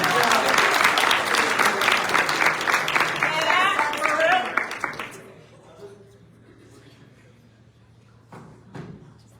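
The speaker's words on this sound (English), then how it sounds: "So, round of applause for him." Loud crowd applause at an athletics banquet for about five seconds, then it dies away into a quiet room with a few scattered claps and faint murmurs.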